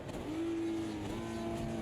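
A 1999 stock car in a racing game, apparently out of fuel, gives a steady low engine drone with a sustained hum that holds level throughout, moderately loud and without speech.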